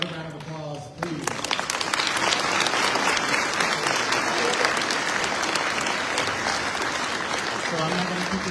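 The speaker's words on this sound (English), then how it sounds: "Another round of applause, please." An audience at a peace walk event bursts into sustained applause, loud and dense, with a voice speaking briefly before and after the clapping.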